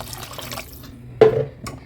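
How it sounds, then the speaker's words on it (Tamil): Water splashes briefly into a pot of okra tamarind curry in a short, fairly close burst, with quiet kitchen background before it. "இப்போ வந்து இன்னும் கொஞ்சம் தண்ணி ஊற்றிக்கலாம்"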